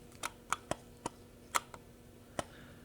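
Loose in-body image stabilizer inside a Nikon ZR camera, rattling as a scattering of small, sharp, irregular clicks and ticks. Quiet and close-up over a faint background hum.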